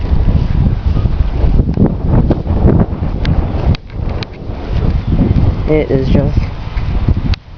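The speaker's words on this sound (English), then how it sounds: "It's sort of windy out here right now." Strong gusty wind outdoors after a windstorm, buffeting the microphone with rustling surges and brief lulls, while a person speaks a few words over it.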